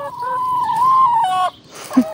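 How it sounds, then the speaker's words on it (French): Hens in a small backyard henhouse: one drawn-out, wavering cackle, close and fairly loud, cuts off, followed by a brief low cluck. "du bruit quand même, des poules."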